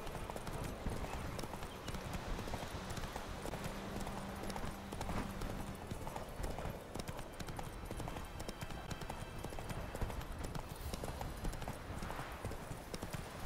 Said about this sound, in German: Wieso reite ich jetzt hin?